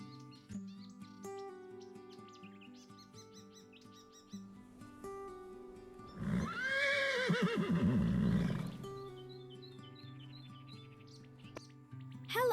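A horse whinnies midway, a loud rising-and-falling neigh standing out over a gentle background of chirping birdsong and soft music-like tones.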